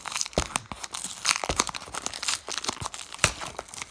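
Packing tape is peeled and torn off the cardboard box of a Hornby Bulleid Q1 model locomotive, giving close, crackly ripping bursts with crinkling in between, without any talking.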